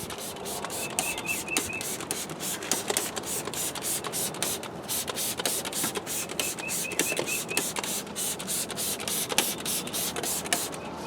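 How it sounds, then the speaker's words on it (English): A trigger sprayer mists super degreaser tire cleaner onto a car tire during auto detailing, a quick series of sharp spritzes repeating in clusters, close and crisp over faint background hiss. "So I'm going to spray it onto the tire, and then I'm simply going to agitate it and then rinse it off."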